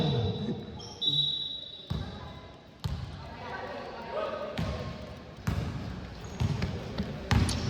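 A basketball is dribbled in a game, with a few sharp, echoing bounces spaced over several seconds on an indoor court amid crowd noise. A commentator talks throughout.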